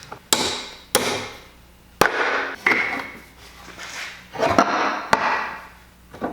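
Hand tools pull nails and screws from pallet wood, making a series of sharp knocks and cracks spaced irregularly, with scraping and creaking of wood between them, close by and without talk.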